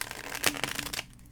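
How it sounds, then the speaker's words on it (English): Tarot deck shuffled by hand at close range, a quick run of soft riffling card flutters lasting about a second before falling quiet. "One more shuffle."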